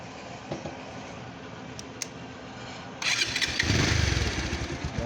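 A Pulsar motorcycle in original, untouched condition starts up: a quiet idle background, then the engine catches and runs with a loud, close, pulsing rumble.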